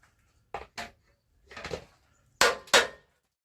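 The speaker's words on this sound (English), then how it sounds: "we'll have to hammer it out" Hammer blows on a cut steel Jeep frame being shortened for a Cummins engine swap: four sharp metallic strikes in pairs, then a scraping bang, close and loud with quiet gaps between.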